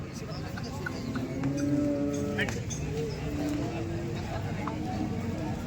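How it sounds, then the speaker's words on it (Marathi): Cows low several times in drawn-out moos at a busy cattle market in Sangola, with constant crowd chatter and voices talking throughout. "त्या गाय बघा अशा चांगल्या प्रकारच्या गायी"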